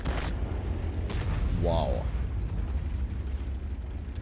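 Artillery fire and explosions in the tank game World of Tanks, from a Bat.-Châtillon 155 55 artillery vehicle: a steady low rumbling boom bed under a brief excited exclamation.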